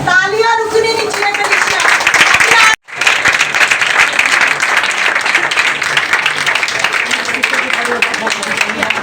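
Sustained, loud applause from a church congregation at a Sunday service, with a brief break before the clapping resumes, while a voice talks over the crowd.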